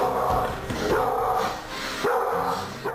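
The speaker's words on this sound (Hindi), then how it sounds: "कत्ल की तफ्तीश में जुटी पुलिस टीम का ट्रेंड कुत्ता एक शख्स को देखकर भौंक देता है" A trained police dog barks repeatedly in a short, steady run of loud, close barks with slight yips between them, and no speech is heard.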